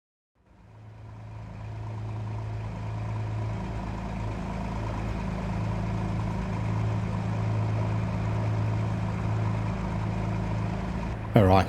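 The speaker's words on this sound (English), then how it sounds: "Just gonna take the GT3 Cup car around Bathurst, being the home track" Porsche GT3 Cup car running at Bathurst in Assetto Corsa Evo, its engine holding a steady, loud drone with low harmonics through the whole stretch before a brief surge at the end.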